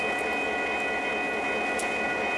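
A steady, loud mechanical drone of a rolling GP9 diesel locomotive with a constant high whine and faint rhythmic rumble, no voices.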